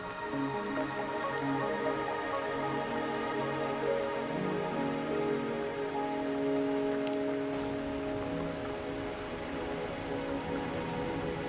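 Steady rain patters continuously on a surface in the video game Wuthering Waves, with a soft tonal drone underneath and no voices.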